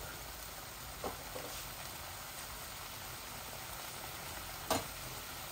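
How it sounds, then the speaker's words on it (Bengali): Spices frying in a pan before roselle leaves go in, a soft steady sizzle throughout with a couple of brief utensil clinks or stirs, no voices. "এই আমার মশলাটা ভাজা হয়ে গেলে আমি রুজোটের পাতাটা দিয়ে দিব। এটা একটু ভালো করে ভাজা ভাজা হোক।"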